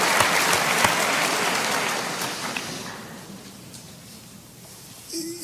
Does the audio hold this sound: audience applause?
yes